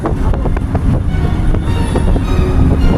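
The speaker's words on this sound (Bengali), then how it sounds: "ফারাক্কা ব্যারেজের কাছাকাছি বাঁদিকে ট্রেন যাচ্ছে" A Sealdah–Agartala passenger train rumbles past near the Farakka Barrage, heard from a moving car alongside as a loud, continuous rolling drone with rhythmic clatter and wind buffeting.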